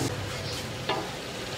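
Potatoes fry and sizzle in a cooking pot in a home kitchen in Lahore, a steady close hiss with a brief stirring scrape partway through.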